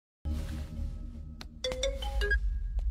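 Cartoon phone ringing as a call is placed, a run of sharp electronic ring tones and beeps over a low background hum, with no talking.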